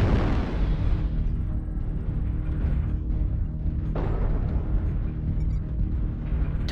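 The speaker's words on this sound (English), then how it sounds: "Artillery strike online." Artillery strike explosions in a tank video game, with two heavy booms landing around the one- and four-second marks over a constant loud rumble of engine and battle noise.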